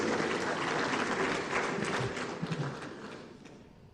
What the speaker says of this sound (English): A round of applause as they both come up to witness.